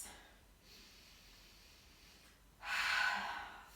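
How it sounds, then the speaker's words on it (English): Deep breathing during a yoga core session for inversions: a soft inhale, then a loud, forceful exhale through the nose lasting about a second, close to the mic, with no talking. "Take 2 nice deep breaths."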